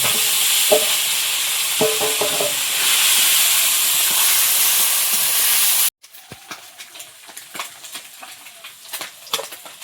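Fish frying in hot oil with a dense, steady sizzle and scattered clinks for about six seconds, then a sudden drop to quieter crackling and sputtering with occasional sharper pops.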